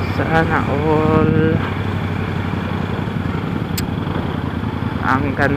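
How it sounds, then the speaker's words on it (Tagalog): A big sports motorcycle engine passes by with a steady roar that swells and lingers, with people talking loudly over it throughout. "Ang gandang motor. O, ayun o. Ha? Big bike. Ang ganda ng tunog."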